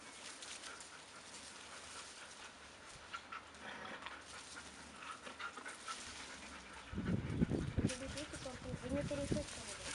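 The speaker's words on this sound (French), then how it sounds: "Ça, c'est la spécialité de Flèche, énerver les autres chiens." Dogs panting and whimpering nearby, with a burst of louder barking or yelping in the final few seconds amid background voices.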